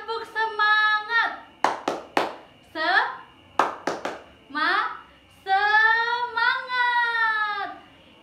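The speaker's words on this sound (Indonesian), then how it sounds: "kita sama-sama tepuk semangat agar kalian belajarnya lebih semangat lagi" In a classroom, a teacher leads the rhythmic 'tepuk semangat' clapping chant. A clear, close voice chants in short phrases, and crisp groups of two or three hand claps fall between the words in a patterned rhythm.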